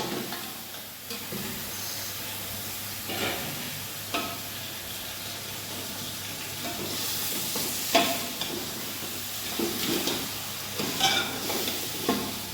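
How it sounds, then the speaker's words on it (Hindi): Beef pieces frying in a pan for nihari, with a steady broadband sizzle and scraping stir strokes recurring every second or two, close and moderately loud, no talk. "बीफ को अच्छी तरीके से हिला लें"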